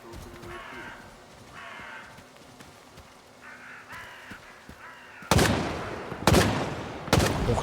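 In the video game S.T.A.L.K.E.R. 2, crows caw in short repeated calls, then three sharp, loud gunshot bursts crack out near the end, one after another.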